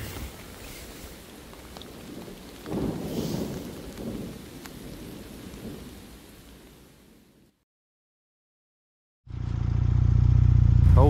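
Rain and thunder in open fields during a storm in Slovakia, rumbling and hissing steadily through the first seven seconds, then dropping to near silence before a loud, close, steady roar returns at the end.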